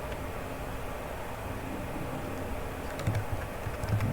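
Keys clatter on a computer keyboard in a quick, soft run of taps over a steady background hiss, close by and fairly quiet, with no one talking.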